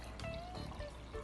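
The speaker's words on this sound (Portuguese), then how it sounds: "Vamos acrescentar agora a água fria ou água gelada," Cold or iced water poured into a bowl of dissolved gelatin powder, a short, soft stream of liquid running steadily at close range, quiet and without talk.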